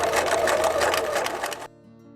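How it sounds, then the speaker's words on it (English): A sewing machine runs a quarter-inch seam down the side of a tote, a fast continuous rattling stitch close by that stops abruptly near the end, leaving a faint residual hum. "go back to the sewing machine and run 1/4 stitch down each side"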